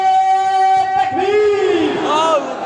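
A crowd at a religious gathering in Nawada shouts back in unison with hands raised, answering the Nara-e-Takbir call with a loud, sustained, rising cry that swells and then cuts off.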